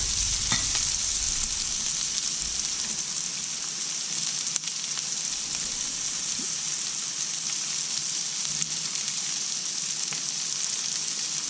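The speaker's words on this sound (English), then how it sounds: "So I cook my onions for about 3 to 4 minutes. I'm going to add my ginger and then my garlic." Onions, ginger and garlic sizzle in a pan for a chicken and vegetable stir fry, a steady close hiss of frying with occasional soft stirring clicks and taps, alone without talk.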